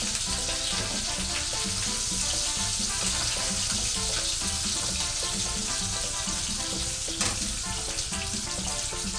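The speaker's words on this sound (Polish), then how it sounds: "Właśnie tutaj smażymy kiełbaskę." Sausage sizzles and spits loudly in a hot pan, a constant close crackle of frying with occasional louder pops.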